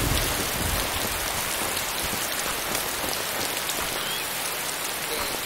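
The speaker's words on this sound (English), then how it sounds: "Oh my god, the rain!" Heavy rain in a video game pours down steadily and loudly for several seconds, a dense, even hiss of drops hitting surfaces, heard alone without talk.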